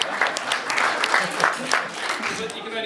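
Wedding guests clap and cheer steadily through a reception speech, a dense wash of applause filling the room for about three seconds at even loudness.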